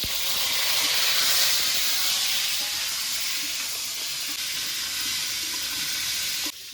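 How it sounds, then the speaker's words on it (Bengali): Pointed gourd (potol) frying in hot oil in a pan gives a steady, loud, close hiss of sizzling that holds for several seconds with no talk, then drops slightly at the end. "এবার নেড়ে চেড়ে পটলগুলোকে ভালো করে ভেজে নেব"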